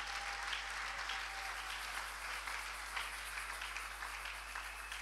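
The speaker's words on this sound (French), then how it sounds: "Acclamez le Seigneur pour cette femme" A church congregation applauds during a Sunday worship service, sustained dense clapping from many hands that fills the room steadily and evenly throughout, with no voices rising above it.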